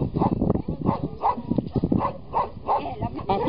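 Stray dogs barking at a shelter in Loutraki, Greece, repeated overlapping barks and yelps from several dogs close by, loud and alone.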